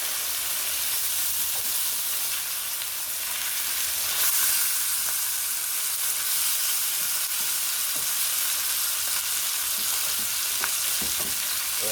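Meat sizzles and fries in a skillet for lasagna while being broken up, a loud steady hiss with occasional scraping stirs, close and continuous with no talk.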